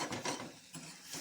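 A spoon scrapes and stirs mashed brinjal and egg bharta in a pan, with a few quick soft strokes close up and a faint sizzle beneath.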